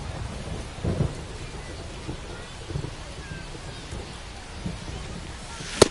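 Rain falls steadily during a baseball game, a broad hissing wash with low rumbles that suggest thunder, continuous and moderately loud with no clear talk.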